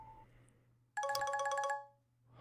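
Phone ringtone in a horror drama video game, a loud bright electronic ring with rapid repeating tones lasting under a second before fading, set against a quiet low hum.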